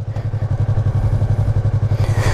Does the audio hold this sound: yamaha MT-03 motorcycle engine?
yes